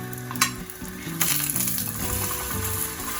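Chicken shami kababs fry in an oiled pan with a steady, close sizzle, broken by a few clunks as they are set down, over faint background music.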